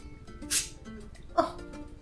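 A small girl gives a quick, soft sneeze, followed by a second faint catch of breath, close by in a quiet room.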